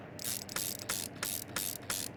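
In Car Mechanic Simulator 2021, a ratchet tightens the eight bolts holding an engine manifold and turbo on a Hammerdal Strale, crisp bursts of clicking repeating in quick regular runs, close and alone.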